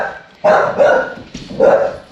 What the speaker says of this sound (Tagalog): May aso pala eh.